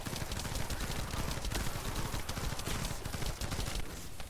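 Rapid gunfire rattles in The First Descendant, dense bursts of shots running nearly nonstop at close range with sharp cracks layered over one another, and no voices.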